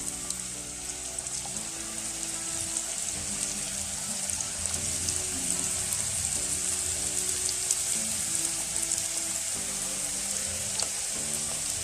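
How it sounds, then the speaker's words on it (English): Beef samosas fry in a pan of hot oil, giving a steady, dense crackling sizzle that runs the whole time without a break, close and even, with a bright hiss above a low bubbling bed. "Yeah, so the oil is ready. Then you add your samosas and don't overcrowd them."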